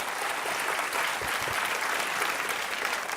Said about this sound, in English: That was the perfect amount of applause for that answer